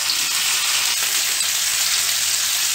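Chopped onions and green chilies frying in hot ghee, a loud, dense, unbroken sizzle that holds steady from start to finish with no voices.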